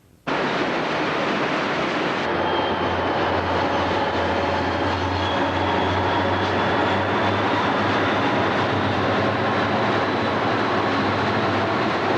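A Conrail engine hauls a train past the Kent Waterfall in Ohio, starting abruptly and holding a loud, steady rumble and roar with a low engine drone, close by and unbroken, with no voices.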